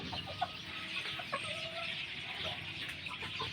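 Gamecocks kept as fighting roosters cluck in short scattered bursts close by, quiet and intermittent, over a low background hum.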